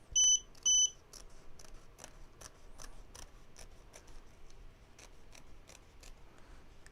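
Scissors trimming fabric for an appliqué on a beach towel during machine embroidery: a series of quiet, close snipping cuts at an irregular pace, preceded by two short electronic beeps from the machine.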